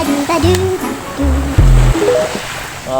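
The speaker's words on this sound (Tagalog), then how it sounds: "Medyo malakas-lakas ang alon" Strong sea waves break along a shore, a broad steady roar of surf filling the background while voices talk over it.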